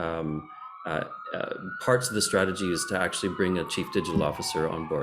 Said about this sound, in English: I apologize if you can hear sirens in the background.